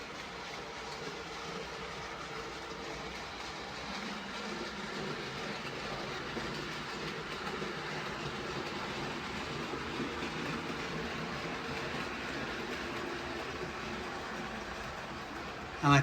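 An OO gauge model train runs around a countryside layout past a village green, giving a steady, fairly quiet rolling rumble with light wheel clatter for the whole stretch.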